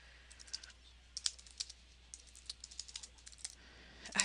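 Quick, crisp keystrokes on a computer keyboard tap out an uneven rhythm close by, with brief pauses between bursts and a louder flurry at the end.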